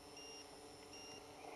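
A Bayangtoys X16 quadcopter drone running a Matek F405SE flight controller gives a faint, repeated electronic low-battery beeping in short tonal bursts over a steady background hum.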